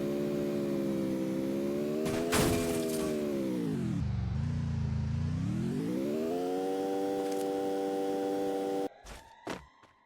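A car driven in the Free Fire battle royale game whirs steadily with a tonal engine drone that dips and rises in pitch, ending in a few sharp clicks.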